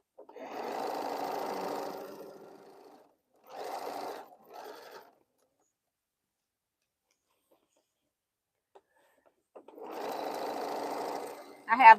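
A sewing machine sews seams between quilt blocks in three moderately loud runs, a long one, a short one and a final one, separated by quiet gaps.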